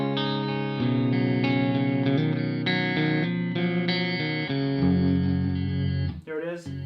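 An electric guitar plays a sustained chord progression with a clean, clear dry tone through a 1989 Alesis Quadraverb rack effects unit, ringing steadily before trailing off into a brief warble at the end.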